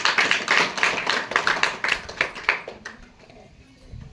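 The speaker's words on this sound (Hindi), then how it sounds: "आप सेवादान योग में इसका वेलकम करते हैं तालियों के साथ।" Audience at a village Ekam Ashram Seva Samiti gathering clapping in welcome, a dense burst of hand claps that thins to a few scattered claps and fades out over a few seconds.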